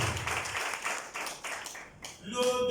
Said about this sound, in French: mesdames et messieurs, des applaudissements pour notre...